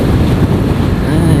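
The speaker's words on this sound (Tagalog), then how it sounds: "Sarap ng hangin dito talaga." Steady wind rushing across the microphone during a ride through Dahilayan Forest Park, a continuous low broadband roar with no talk over it.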